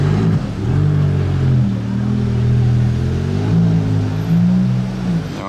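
A matte yellow Maserati MC20 Cielo accelerating nearby, its engine note climbing and falling through revs in a loud, continuous, rumbling roar with no talk over it.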